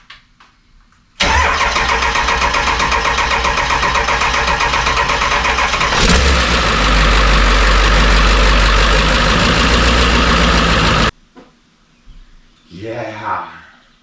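A 7.3 Powerstroke diesel with standalone swap wiring cranks briefly, then catches and runs loud and steady for about ten seconds before cutting off, followed by a short spoken remark.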